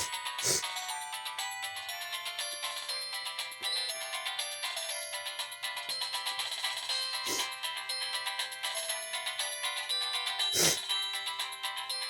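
A Samsung SGH-X450 mobile phone plays its 'disco' ringtone, a bright, steady electronic melody running continuously and fairly loud, with a few sharp clicks standing out along the way.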